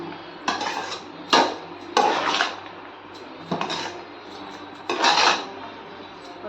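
Lemon rice being mixed in a hot pan, five bursts of utensil scraping and clattering against the pan spaced by quiet gaps, close and fairly loud with no talking.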